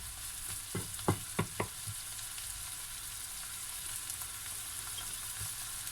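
Butter frying in a pan while cooking fish spaghetti carbonara, a steady close hiss of sizzling with a few quick scraping stirs near the start, then an unbroken crackle.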